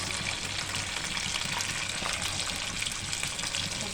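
Chicken and spices frying with tomato sauce and soy sauce in a home kitchen pan, giving a steady, close sizzle and hiss that runs unbroken, with no talking over it.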